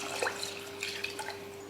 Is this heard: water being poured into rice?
yes